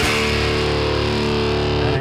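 Electric guitar in drop D tuning hitting the three low strings together, a single thick distorted chord ringing loud and sustained for two seconds without any talking.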